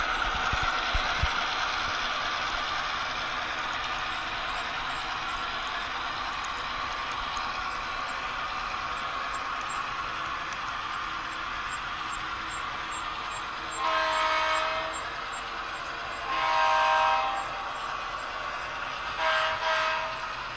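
A model Union Pacific GP38-2 diesel locomotive running, giving a steady electric motor hum with a high whine, joined later by three short bursts of horn tones, no talking.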